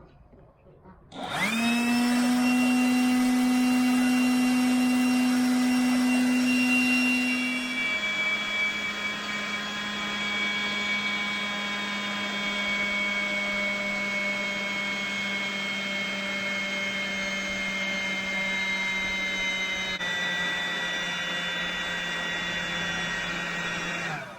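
A DeWalt 20V Max DCBL722B cordless leaf blower kicks on at full throttle and runs loud and steady, a whining motor drone that dips slightly in pitch after a few seconds and holds.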